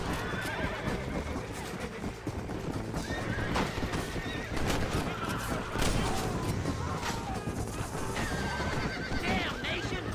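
Horses in the Western video game Red Dead Redemption, loud whinnying and neighing over clip-clopping hooves during a gunfight, with a voice talking throughout.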